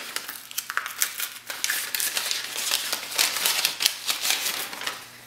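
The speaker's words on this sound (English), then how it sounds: "Now we'll take our adapters that are in this package here. Go ahead and rip those open." Plastic packages of card reader adapters for an AFT PRO-37U being ripped open by hand: dense, close crinkling and tearing with quick sharp snaps, continuous for several seconds over a low hum.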